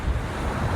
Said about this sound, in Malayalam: തിരയടിക്കുന്ന കടൽ.